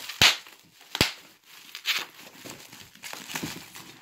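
Plastic wrapping comes off a Cafe Chaos card game box. Sharp crinkles and crackles come close and loud in uneven bursts, about one every second.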